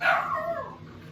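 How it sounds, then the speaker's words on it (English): A single short, high-pitched dog bark or yelp close by in a home kitchen, quickly trailing off into quiet. "Sorry about my dogs."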